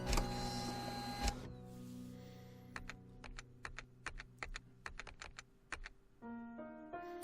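A character types on a keyboard in Gabriel Knight 3: a quick run of crisp separate key clicks with uneven rhythm, bracketed by electronic hums and tones, fairly quiet and with no voices.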